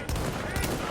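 Gunfire from a sniper rifle in a video game, a dense crackle of shots running through the whole short moment at moderate loudness.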